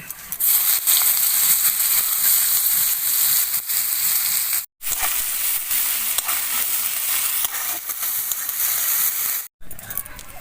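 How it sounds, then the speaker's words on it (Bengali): Black cumin seeds and chopped onion fry in the same oil used for frying fish, a loud, dense, continuous sizzle and crackle close up, broken by two brief silent gaps, with no talking. "তো একই তেলের মধ্যে আমি কালো জিরে দিয়ে দেব, পেঁয়াজ কুচি"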